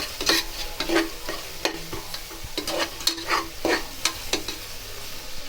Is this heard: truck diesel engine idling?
no